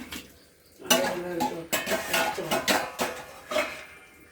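Dishes and pots are washed by hand, with close, repeated clatters and clinks of pans and utensils over running water, in an irregular rhythm after a quiet start.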